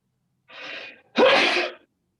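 A single sneeze, a short breathy intake followed by a loud, sharp burst, close to the microphone in an otherwise quiet room during an online conference workshop.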